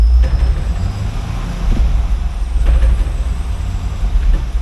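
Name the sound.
2013 Camaro SS driving and shifting its 6-speed manual transmission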